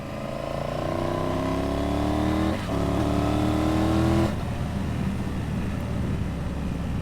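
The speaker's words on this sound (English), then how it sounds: "I like the way it sounds. I like the way it revs up, but also delivers some nice torque in the middle." A Triumph Tiger 850 Sport engine revs up in two rising sweeps, then drops back to a rough idle, heard loud and close with rumbling background.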